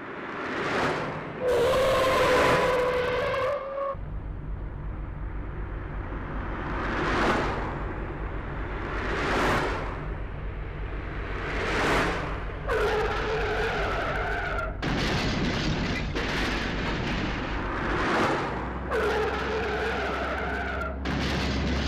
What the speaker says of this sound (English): another car will come and smash into the, into the parked car